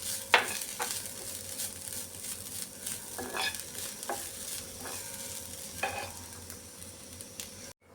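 Grated coconut sizzles quietly in a pan with ginger and fenugreek, and a spoon scrapes and stirs it in irregular strokes with small clinks against the pan.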